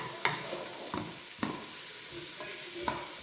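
Vegetables sautéing over medium-low heat in oil and meat renderings for a Cajun chicken and sausage gumbo: a soft, steady sizzle broken by several distinct stirring scrapes, close and without talk.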